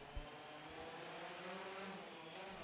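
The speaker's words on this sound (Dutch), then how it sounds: "In dit nieuwe experiment houdt deze drone alle studenten in het oog." A drone hovers over an exam hall full of students at a college in Mechelen, giving off a steady, faint, even propeller whir with no talking.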